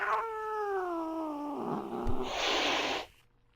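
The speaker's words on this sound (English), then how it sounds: "It's a hiss and growls and whatever it is cats do." A cat character in a wrestling match gives a drawn-out yowling growl that turns into a harsh, noisy hiss, loud and close, with no talking.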